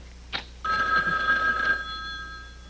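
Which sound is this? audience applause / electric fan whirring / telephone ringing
telephone ringing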